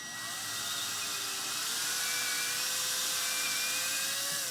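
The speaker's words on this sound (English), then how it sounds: "I run the drill for a couple seconds back and forth" A power drill spins a cleaning patch inside a revolver cylinder chamber being polished, giving a steady, close, high-pitched whine with bright scratchy hiss that runs continuously for several seconds, its pitch rising slightly partway through, with no talking.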